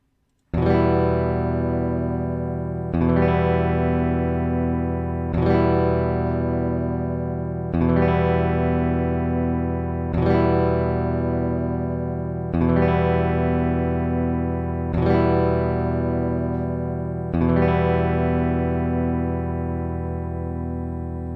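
Electric guitar with distortion and effects rings out eight slow, evenly spaced sustained chords, alternating between a stock nut and a brass nut, each strike decaying before the next, with no talking.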